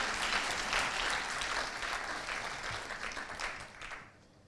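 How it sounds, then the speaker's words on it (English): Conference audience gives a hearty round of applause, loud and sustained clapping that thins out and fades away over the final moments. "Can we have a round of applause, please?"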